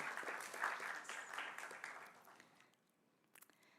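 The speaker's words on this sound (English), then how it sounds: "join me in extending a warm round of applause" Applause from a TEDx talk audience, a steady wash of many hands clapping that gradually thins out and fades.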